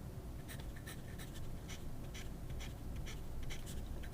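Pilot Metropolitan fountain pen with a sticky nib scratching across paper in a series of short, close, uneven strokes over a low background rumble.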